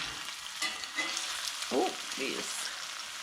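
Spoonfuls of potato latke batter drop into hot frying oil, each one bursting into a loud, bubbling sizzle over steady background crackle, while a person briefly exclaims.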